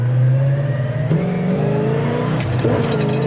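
A 1971 Pontiac GTO with a 4-speed manual accelerates hard, its V8 engine roaring close and loud with rising revs and a gear change partway through.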